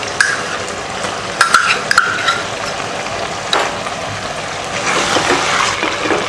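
Wet sizzling and scraping of ginger garlic paste being stirred into frying chicken in a hot pan, with a few sharper clinks near the start and a steady frying hiss throughout.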